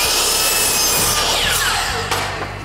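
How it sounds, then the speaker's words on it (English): A 10-inch compound miter saw cuts through large-profile wood baseboard trim, a loud whining rasp that builds and then drops, close and heard without speech. "Now, I'm using a 10-inch compound miter saw."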